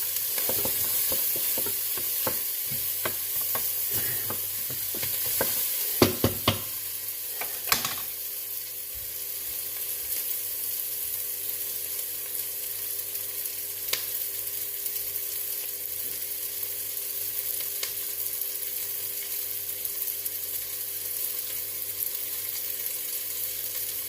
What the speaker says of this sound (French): Donc on laisse bien revenir, histoire que ça brunisse